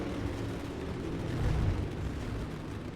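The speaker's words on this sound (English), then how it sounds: "I always forget the fireworks, and it always startles me." Fireworks boom at a dirt race track at Eldora after a Dirt to Daytona late model race, a muffled low rumbling burst swelling midway through under a steady crowd and ambient roar.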